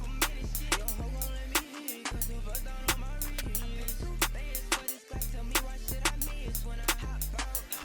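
Tightened background snare in a trap beat cracks in short, regular hits over booming 808 bass notes and steady beat elements, with brief bass gaps and no voices.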